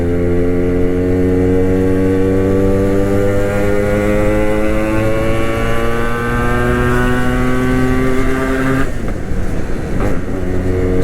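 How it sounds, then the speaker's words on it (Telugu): A Yamaha RX motorcycle engine drones loud and steady while riding in traffic, its pitch climbing slowly through the gears before easing off near the end. "సౌండ్ ఒకసారి వినిపించుకుని ఎట్టుందో బండిది"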